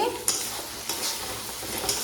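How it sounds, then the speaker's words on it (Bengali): Potatoes fry in a pan on a home stove, giving a steady sizzle with a few sharp crackles and stirring scrapes, close by with no one talking. "আর এই পাশটায় আমি আলু ভাজা করছি"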